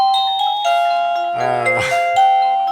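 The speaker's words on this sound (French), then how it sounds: "si je viens sonner, par exemple, on a donc le carillon" A bright electronic chime from a WiFi/PoE video intercom doorbell plays a short multi-tone melody, loud and close, with no talking.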